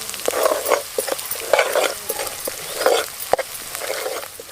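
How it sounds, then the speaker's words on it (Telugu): Ginger frying slowly in oil over a low flame for prawn curry, a close, steady crackling sizzle with repeated stirring strokes and small spoon taps against the pan. "అల్లం ఉంది కదా, ఇదైతే మనం చిన్నగా మంట పెట్టుకొని మెల్లగా గోల్చుకోవాలి"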